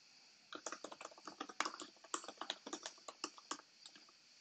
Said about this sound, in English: you can simply come in here and type the title of the action card.